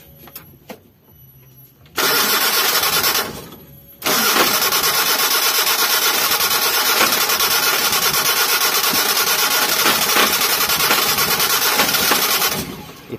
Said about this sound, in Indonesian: Itu yang suara berisik itu bukan dinamo starter lo ya, nembak di knalpot guys.